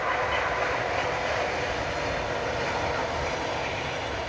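A train passing near a forest outside Kyiv, heard as a loud, steady, broadband rumble and rushing roar that holds evenly for the whole stretch with no voices.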